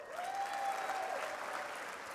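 A gala audience at an Evening of Aloha event breaks into steady, dense applause that fills the room for the whole stretch, with a faint crowd murmur underneath.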